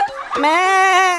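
A human voice imitates a rooster crowing, giving one long, drawn-out, rising and falling crow that sounds close and loud, with no other sounds around it.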